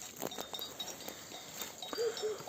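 Faint sheep bleating at a distance in an alfalfa field over quiet outdoor rustling, with a soft clink now and then.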